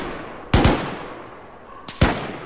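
Two sharp gunshots ring out in the Arma 3 military simulation, about one and a half seconds apart. Each cracks loudly and leaves a short echoing tail, and a faint click comes just before the second.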